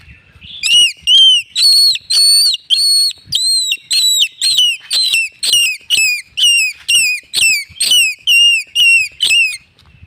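A shrill, high whistle made from part of a forest tree, blown in a steady run of short, evenly spaced chirping bursts, loud and close, with no talking.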